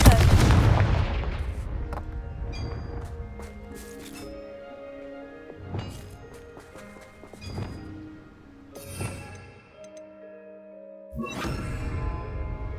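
In the video game Hogwarts Legacy, the Confringo explosive spell goes off in a loud close blast at the start, followed by several sharper bangs and magical ringing tones spaced across the rest of the clip.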